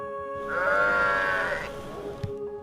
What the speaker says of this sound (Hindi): वहां भेड़ों की गर्दन पर घंटियां थीं, जिनकी आवाज सैकड़ों मीटर दूर तक सुनी जा सकती थी।